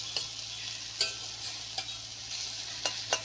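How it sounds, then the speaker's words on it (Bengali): Tiny red river fish (pangna) fry in a pan with a soft, even sizzle. A handful of sharp utensil taps from stirring break it at irregular intervals, and there is no talk. "এখন ভাজা হচ্ছে পংনা মাছগুলো খুব ছোট ছোট লাল লাল"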